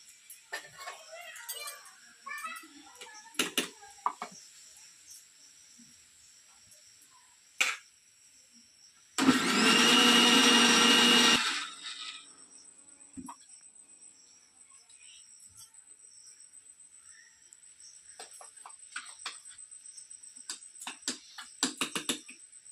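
A kitchen mixer grinding peanuts with fennel seeds into a paste, a loud whirring burst of about two seconds midway, surrounded by quiet clinks, small handling noises and background insects.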